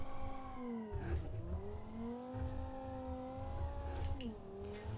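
A powerful sports luxury car engine in a video game revs and drones steadily, pitch rising and dipping as it accelerates and eases off, with some tire squeal, continuous and loud.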